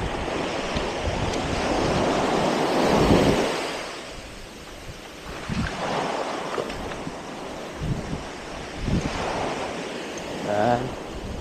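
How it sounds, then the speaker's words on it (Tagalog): Strong gusting wind at a white sand beach buffets the microphone beside crashing surf, rising and falling in waves, with no speech. "Lakas ng hangin."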